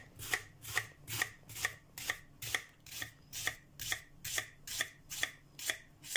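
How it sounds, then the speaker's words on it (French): A knife finely chops a peeled onion on a board, giving about fourteen crisp, evenly spaced cuts in a steady rhythm, close and quiet, with no voices. "on va commencer par ciseler l'oignon"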